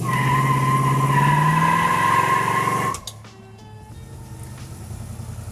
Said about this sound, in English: We're taking this beautiful 64 out for a test drive.